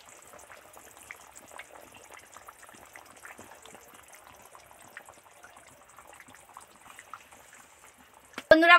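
A pot of katla fish curry with kohlrabi simmers on the stove, a soft continuous bubbling, before fried fish pieces drop in with a sudden loud splash and clatter at the very end.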